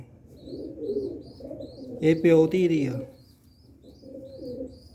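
Pigeons coo softly and repeatedly in a loft, a low throaty murmur with faint high chirps, while someone speaks over them near the middle.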